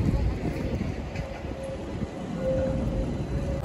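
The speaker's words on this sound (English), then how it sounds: "Look at it, another tram, which wasn't born yesterday." A tram rolls past on Kungsport Avenue, the main boulevard of Gothenburg, as a steady near rumble with a faint tonal whine, loud and continuous throughout.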